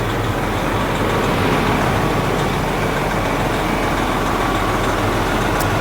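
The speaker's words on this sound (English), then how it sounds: "That's the signs of a healthy engine right there." A healthy truck engine idles steadily and loudly, a continuous low rumble with no smoke and no pauses, and no one speaking over it.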